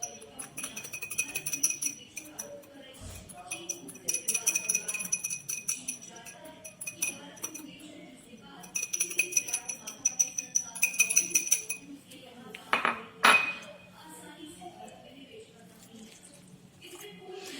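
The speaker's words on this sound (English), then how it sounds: "You will heat it up and continuously whisking it." A whisk taps and scrapes rhythmically against a pan while a thickening milk-bread starter heats, producing light metallic clinks in repeated bursts over faint background music.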